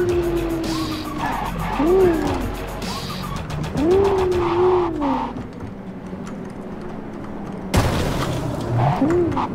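Car driving and skidding in the Cyberpunk 2077 video game, with engine tones rising and falling and repeated tire squeals, plus bird-like chirps in the background, loud and continuous.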